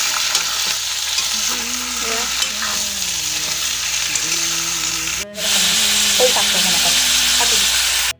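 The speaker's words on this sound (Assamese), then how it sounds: "আৰু তেলতো পিঁয়াজ দিছোঁ" Onions frying in hot oil for an Assamese goat curry, a steady loud sizzle with stirring scrapes and a background tone, briefly cut off just past five seconds before the sizzle resumes louder; a faint voice is heard now and then.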